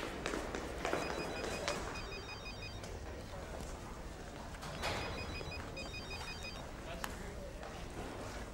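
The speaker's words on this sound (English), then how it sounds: "I'm ringing Adam." A telephone rings in a TV drama, sounding twice in clear double-ring bursts separated by a pause, over busy background noise with faint voices.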